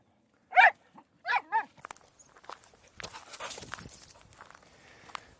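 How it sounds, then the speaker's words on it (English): A dog named Banjo barks a few times up close: two or three sharp barks, then quieter shuffling and movement. "I'm going to walk somewhere else and perhaps he'll stop barking"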